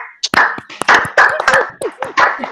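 A handful of webinar participants clap for a colleague in a few scattered, uneven claps, mixed in with overlapping voices talking.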